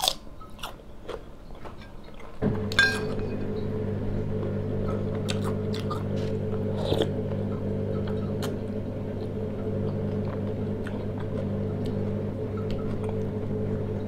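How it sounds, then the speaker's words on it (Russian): Close-up mukbang eating, with crunchy bites and wet chewing of cucumber over a steady low hum; sharp bite clicks early, then continuous moist mastication, no talking. "Она ест огурцы."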